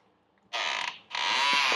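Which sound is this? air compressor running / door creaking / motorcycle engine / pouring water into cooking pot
door creaking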